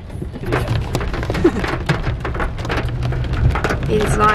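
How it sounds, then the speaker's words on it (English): Hail striking a vehicle during a hailstorm, heard from inside on an adventure trip near Burleigh Heads, Queensland: a dense, steady patter of sharp impacts with low rumbling underneath, loud and continuous. "We just hit the hailstorm."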